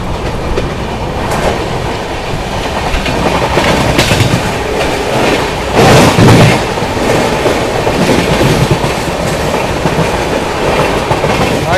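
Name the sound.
Shramjeevi Express train running on rails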